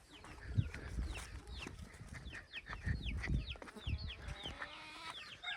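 Farm chickens cluck and chirp repeatedly in short, varied bursts, some near and some farther off, over low rustling and thumps of a yard where buffalo are also kept.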